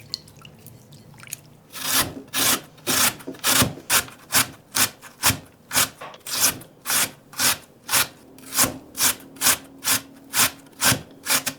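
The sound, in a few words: grating peeled potato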